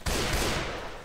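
A sharp, loud burst of Left 4 Dead 2 gunfire hits at once and quickly fades over about a second.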